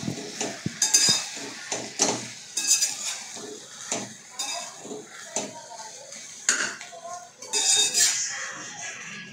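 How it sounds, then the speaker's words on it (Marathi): Methi leaves being stirred into masoor dal in a metal pan, with repeated clinks and scrapes of a spoon against the pan and a faint sizzle underneath, heard close up without talk. "मिक्स करून घ्यायचं याला चांगलं।"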